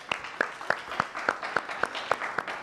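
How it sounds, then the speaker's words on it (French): A few people at a student gathering at a university in Rwanda clap in a slow, even rhythm, about three claps a second, each crisp and separate rather than a full crowd ovation. "j'aimerais qu'on applaudisse pour Eliane."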